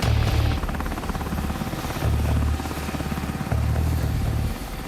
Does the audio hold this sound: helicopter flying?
yes